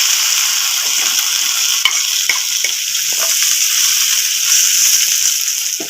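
Grated tuber frying in hot oil with a tempering of mustard seeds, urad dal, cumin and onion powder, stirred in the pan. A steady close sizzle with scraping spoon strokes runs throughout, with no one talking.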